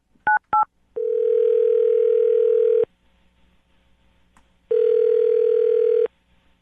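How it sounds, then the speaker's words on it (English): A telephone dial sequence: two short key tones, then two long steady tones separated by a quiet gap. Clear and isolated, with no talk, ahead of a call to a man named Jason. "I'm going to dial his phone number right now"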